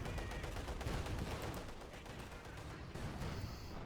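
Continuous rattling gunfire in Company of Heroes 2, a dense fusillade of small-arms fire at moderate distance, fairly quiet and steady, with a voice talking over it.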